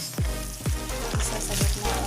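Hotdog sautéing in a pan, a steady close sizzle and fry with rhythmic stirring strokes scraping about every half second, no voices.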